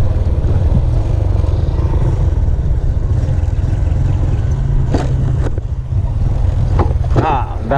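A Bajaj motorcycle engine drones loud and steady while riding a rough mountain road in Panitan, Capiz, with clatter from the bumpy surface and brief voices over the engine.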